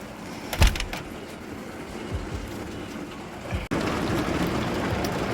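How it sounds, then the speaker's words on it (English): Rain falls after a storm that brought hail and a little thunder, a steady hiss with a few louder knocks and thumps, rising to a denser, heavier patter for the last seconds. "The rains are here."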